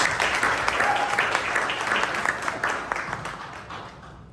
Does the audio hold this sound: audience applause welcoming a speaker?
yes